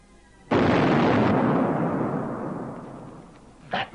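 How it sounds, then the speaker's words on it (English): A hand grenade explodes in a 1954 British comedy film, one sudden loud boom that rumbles and slowly decays over several seconds, followed by a brief faint hiss. "That, mate, was a ruddy hand grenade."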